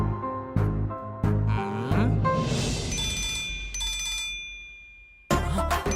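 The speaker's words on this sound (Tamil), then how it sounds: "மச்சான் கால் வந்துருச்சா?" A mobile phone rings with an incoming call, a bright repeating melodic ringtone that swells and fades over a few seconds, with soft background sounds around it.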